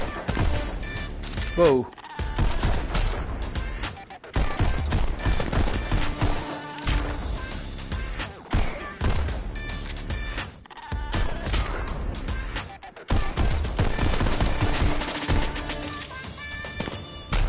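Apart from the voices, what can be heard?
enemy gunfire in the VR video game Pistol Whip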